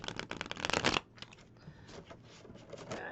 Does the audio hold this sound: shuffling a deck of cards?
yes